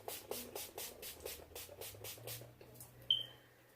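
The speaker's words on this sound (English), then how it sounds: "spray on another layer of my setting spray, 10 Years Younger setting spray used by J.Lo herself." A setting spray mists onto a face in a rapid series of about ten short, soft hissing pumps, close and faint.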